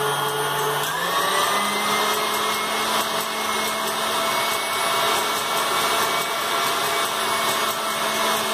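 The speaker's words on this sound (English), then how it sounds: "if you use a KitchenAid mixer, it will take very little time" KitchenAid stand mixer whipping egg whites, a loud, constant motor whine with a pitch shift as it speeds up at the start, then running steadily with no talk.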